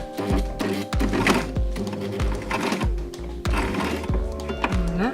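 A sewing machine backstitches through safety harness webbing with loud, close, rhythmic needle thumps, slowing and shifting tempo as the stitching reverses.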